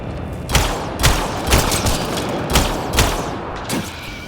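Steady bursts of gunfire in Mass Effect: Andromeda, roughly evenly spaced shots about every half second, loud and close over a continuous noisy battle background.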